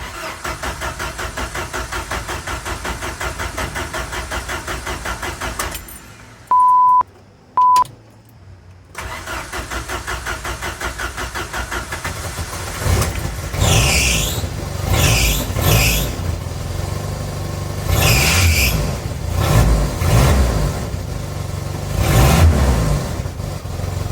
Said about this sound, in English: I'm going to at least try to start the car